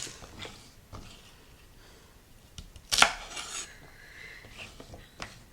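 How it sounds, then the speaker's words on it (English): Knife trimming the ends off two washed celery stalks on a cutting board, a few scattered crisp chops and scrapes with one sharp louder cut, close and unaccompanied by talk. "I've got 2 celery stalks. I'll just wash these off. I'm just going to cut off the ends."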